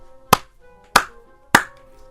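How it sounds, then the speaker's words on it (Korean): Three sharp hand claps spaced evenly about half a second apart, close and crisp in a quiet room, made as a sound effect during a book discussion. "효과음이 들어갔습니다. 박수 소리."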